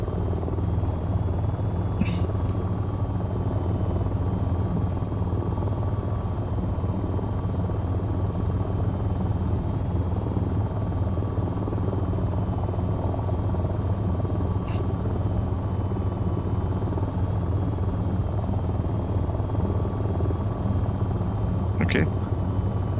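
An AH-94 attack helicopter in the VTOL VR game holds a steady, loud rotor and engine drone throughout, with a few brief faint chirps on top.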